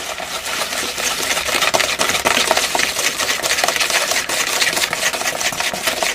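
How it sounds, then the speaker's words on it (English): Spoon stirring cake batter made with eggs and vanilla extract in a bowl, a steady close scraping and swishing that runs continuously without pauses or speech. "And then you want to just keep stirring that around."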